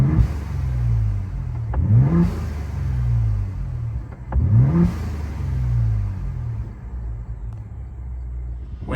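A Ford Bronco Raptor with its stock intake revs twice with the windows down, each blip rising sharply and then falling back to a deep, steady idle rumble, with no voices over the engine.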